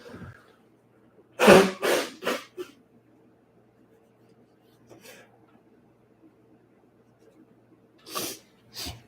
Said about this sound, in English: something is making me want to sneeze here